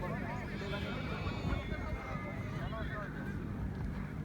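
A horse neighs amid a noisy outdoor crowd at a horse fair in Amreli, with hoof clopping and people talking throughout; the whinny sits low in the mix rather than standing out.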